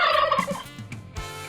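A turkey gobbles once, a short, loud, warbling burst of rapid throaty notes that tails off into softer clucks over about a second and a half.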